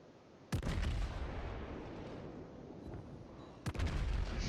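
Battleship main guns on the Arkansas fire in World of Warships, two sharp heavy booms about three seconds apart, each followed by a loud, sustained rumbling roar of naval gunfire with no talk.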